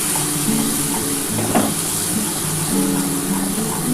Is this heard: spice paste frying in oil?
yes